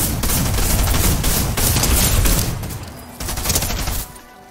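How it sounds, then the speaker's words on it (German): Loud bursts of gunfire in the video game Fortnite, rapid overlapping shots in a dense volley, easing briefly before another round of shooting near the end. "Diese Schüsse."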